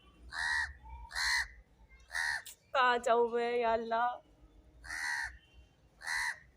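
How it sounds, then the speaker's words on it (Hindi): A crow caws repeatedly nearby, loud harsh calls in a steady series, while someone speaks briefly between them indoors. "पहले मैंने इस कौवे को भगा दिया है।"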